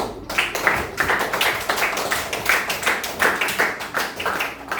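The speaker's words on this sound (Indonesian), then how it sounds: "Kita kasih aplaus dulu" A classroom group claps for a student group after their presentation. The clapping is close and steady, with a pulsing rhythm of hand claps throughout and no talk over it.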